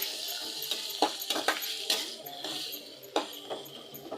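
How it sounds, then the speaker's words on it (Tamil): Onions sizzle steadily in a pan while being sautéed, with a soft frying hiss underneath a few sharp scrapes and clinks of a spoon against the metal, close and fairly quiet, with no voice heard. "இப்போ நம்ம வெங்காயம் போட்டுட்டு நல்லா வதக்கி விட்டுக்கலாங்க"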